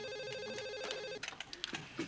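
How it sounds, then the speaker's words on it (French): A restaurant telephone rings with a steady electronic trill that then stops, leaving clattering kitchen and dining-room noise. "Enzo, le téléphone pour toi."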